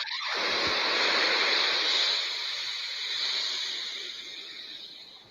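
Sea waves of the Cantabrian Sea at Ribadesella, Asturias, rolling in as a steady, loud wash of surf that swells and slowly eases over several seconds, with no voices.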